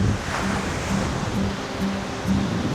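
Waves wash steadily onto the seashore at a beach resort in Hinigaran, Negros Occidental, a continuous broad rushing surge with some wind buffeting the microphone and no voices.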